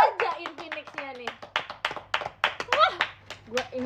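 Hands clapping during an Indonesian live stream, sharp claps mixed with chatter from a voice, the claps sounding close and sporadic rather than a full crowd ovation.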